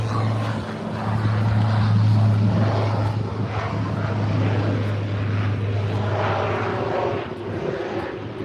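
Aircraft engine drone from planes at SJU/TJSJ airport in San Juan during planespotting, a steady loud propeller-like hum with broadband rumble lasting throughout, no talk.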